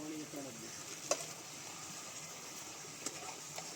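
Tawa chicken masala sizzles and fries in a pan while being stirred, a soft, steady hiss broken by a couple of faint scraping clinks of the spoon.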